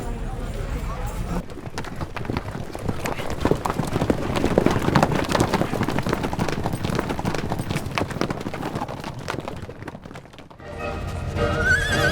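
A military horse neighs and its hooves clop over ground in a dense, busy stretch of movement. Speech runs alongside, and the sound drops away briefly near the end before resuming.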